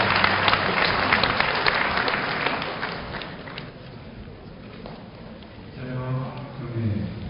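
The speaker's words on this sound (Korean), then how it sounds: "큰 박수로 축하해 주십니다." Audience applause at a university degree-conferral ceremony, a dense burst of clapping that fades over several seconds, followed near the end by a short voice.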